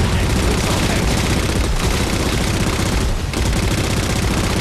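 Warthog turret gunfire in Halo 4, Big Team Battle on the map Exile: a dense, unbroken roar of rapid fire that fills the whole clip, loud and close, with brief dips in the barrage.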